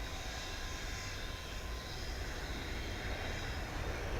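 An airplane at DFW Airport gives off a steady, broadband engine roar that stays loud and even throughout, with no speech.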